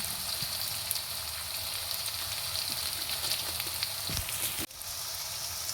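Onions frying in a pan after hot chili powder goes in, with Kashmiri chili powder added for colour: a continuous close crackling sizzle throughout, with a soft knock near the end.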